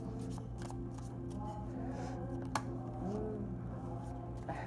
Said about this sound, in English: this was on the bottom of my deck and I shuffled it and it still came out